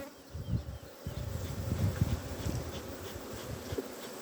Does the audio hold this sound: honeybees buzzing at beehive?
yes